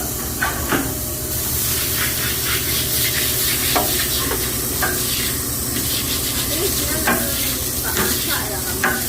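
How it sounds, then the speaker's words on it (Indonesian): Indonesian fried rice (nasi goreng) stir-fried in a restaurant kitchen gives a steady loud sizzle with repeated scraping and stirring clatter throughout. No one speaks. "Sekarang kita buat nasi goreng Indonesia."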